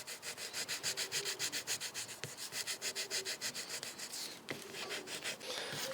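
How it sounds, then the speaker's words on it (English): Fine micro mesh rubs back and forth on a scrimshaw knife handle in quick, even strokes, a soft rhythmic scratching heard close and alone, with a brief pause and a tap partway through. "I'm just going to rub that with some very fine micro mesh."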